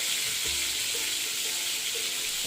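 Ginger, garlic and onion fry in a pan over a high flame, giving a steady, loud, unbroken sizzle with faint stirring clicks beneath it.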